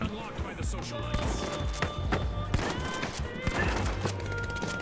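Gunfire in The Finals shooter game, dense bursts of shots and impacts mixed with game effects while players talk excitedly over it.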